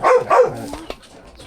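Two quick, loud barks from a nearby dog, followed by quieter whining and a faint yip as it settles.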